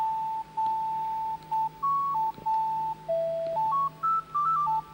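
A run of short electronic beeps at shifting pitches from Harvest Moon: Hero of Leaf Valley dialogue, chirping in quick bursts like scrolling text blips, with a faint low hum underneath.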